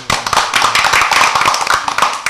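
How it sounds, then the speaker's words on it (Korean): An audience clapping in applause at a political talk event, a dense burst of many hands clapping steadily and close throughout, with a faint voice beneath. "자, 박수 한번."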